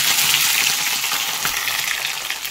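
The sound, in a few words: onions and green chilies frying in hot oil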